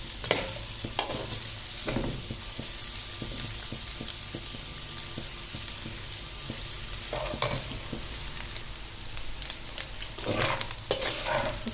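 Onions sizzling in a hot pan for egg fried rice, a steady quiet frying hiss broken by several scraping stirs of a spatula, close up with no voices.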